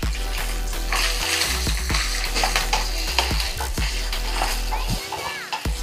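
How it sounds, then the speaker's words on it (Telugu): Curry leaves, dried and crushed green chillies and grated coconut fry in a pan for a mango rice dish, giving a steady close sizzle with stirring scrapes, some faint voices in the background. "ఇది కొంచెం ఫ్రై అవ్వాలి."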